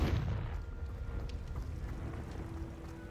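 A Confringo blasting spell explodes in the Hogwarts Legacy video game, a heavy low boom at the start that decays into a rumbling, windy tail.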